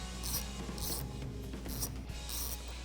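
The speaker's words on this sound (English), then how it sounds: "So we can just tighten that down with the same 12mm deep socket." Ratcheting clicks of a 12mm deep socket tightening the nut on a Jeep Wrangler JL's negative battery terminal post, a few short bursts of close mechanical clicking with no talk.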